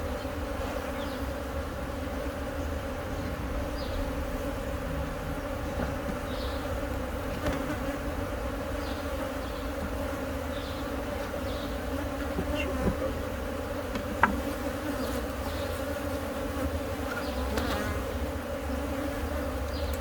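A dense swarm of bees hums steadily and loudly through a bee removal from a hive full of queen cells, a constant close buzzing that never lets up, with no talking over it.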